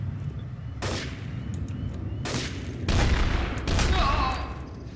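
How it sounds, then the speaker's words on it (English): Gunfire in the video game Trouble in Terrorist Town: four loud, sharp shots at uneven intervals over a few seconds, each with a brief crackling tail over steady low background rumble. "Shots fired."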